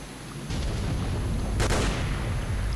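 Rocket launcher fire in S.T.A.L.K.E.R. Shadow of Chernobyl, a single loud blast with a short roar, followed by a sustained rumbling din of gunfire and explosions in the background.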